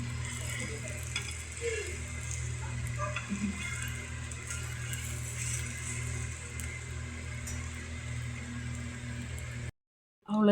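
Tomato egg omelette with onion and green chili sizzling steadily in a pan, a continuous close frying hiss with no talking, cutting off abruptly near the end.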